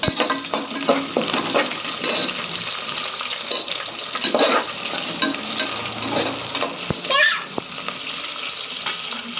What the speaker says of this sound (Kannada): ಈಗ ಉಳ್ಳಾಗಡ್ಡಿ ಹಾಕೋತಿದ್ದೀನಿ ರೀ